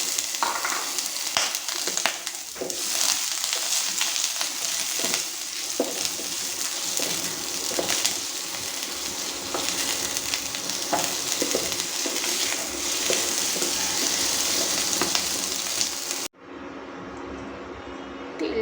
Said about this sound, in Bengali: একটু কড়াতে তেল দিয়ে দিয়েছি, এবার আমি আলুটাকে ফ্রাই করে নেব।